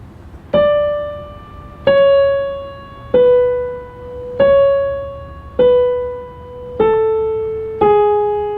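Seven evenly spaced piano notes from a theme in La La Land, each struck firmly and left to ring with a bright attack and slow decay, played alone without voices.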